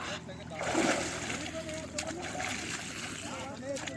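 Cold water splashes and sloshes as people bathe during a Sai Baba palkhi pilgrimage to Shirdi, with voices chattering nearby throughout.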